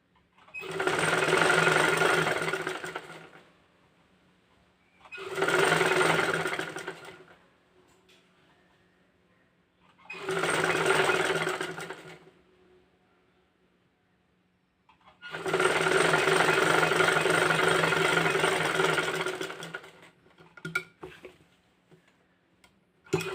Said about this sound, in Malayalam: ഈ സെൻറ്റർ പോർഷനിൽ വെച്ച് അടിച്ചു കൊടുക്കാം